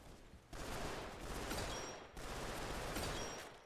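A Tommy gun firing in a video game: two loud, sustained bursts of rapid automatic fire, close and dense, with a short break between them.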